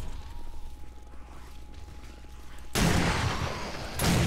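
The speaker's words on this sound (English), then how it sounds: "Get the hand cannon out." Hand cannon shots in the survival game 7 Days to Die during a zombie horde fight: two loud, booming blasts, one after a stretch of low rumbling background and a second near the end, with no talking.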